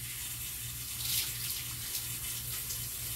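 Water pours and splashes steadily over a dog during a bath, a soft continuous running stream with small irregular splashes and no voices.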